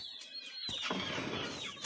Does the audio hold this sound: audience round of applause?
no